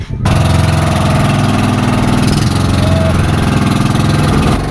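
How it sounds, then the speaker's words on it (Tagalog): A small motorboat's engine putters steadily and loudly close by near Guin-Awayan, Placer, Masbate, Philippines, a continuous droning run from start to finish with no talking. "nahirapan kaming paandarin ang bangka na ito pero maya maya lang ay napatakbo na rin namin"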